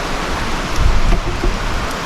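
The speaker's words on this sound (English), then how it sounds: "How much rain is there in the sky? A lot at the moment." Heavy rain lashing down outdoors, heard as a loud, dense, continuous roar of water that swells slightly midway, with nobody speaking.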